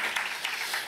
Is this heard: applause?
yes